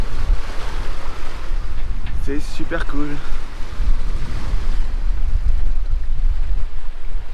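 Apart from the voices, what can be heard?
sailboat at sea in 18-knot wind, waves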